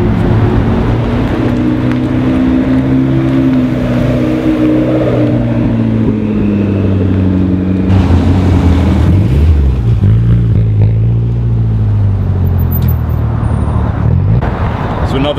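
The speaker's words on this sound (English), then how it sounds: "you've got this McLaren P1 that's about to pull off" McLaren P1 sports car pulling away at a Tokyo expressway parking area, a loud engine note rising and falling in pitch over steady background traffic and crowd noise, with voices faintly audible.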